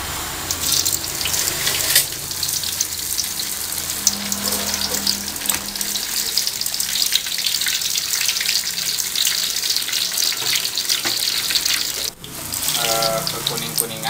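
Cassava pieces fry in hot oil with a loud, steady sizzle and crackle that never lets up, left undisturbed without stirring, and a brief dip near the end.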